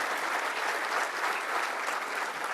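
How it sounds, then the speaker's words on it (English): A crowd at a law enforcement officer awards ceremony applauding steadily, a dense, even wash of clapping that holds at the same loudness from start to finish. "Round of applause."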